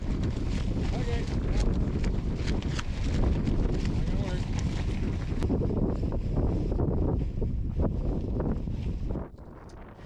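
Strong wind gusts roar and buffet the microphone at a tent campsite during a storm, a loud, continuous rushing that drops off abruptly near the end.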